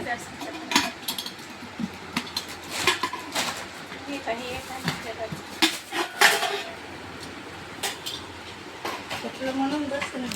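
Metal kitchen utensils and pots being tossed about, giving irregular sharp clanks and clatters scattered through the clip, with people talking nearby.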